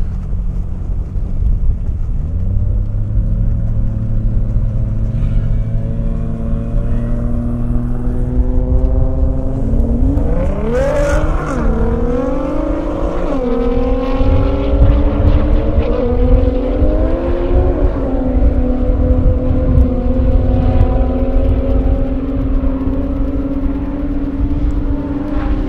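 Time attack race cars run at the Indy airstrip, engines revving loud and near with rising and falling pitch through repeated gear changes, one car sweeping past midway while others drone in the background.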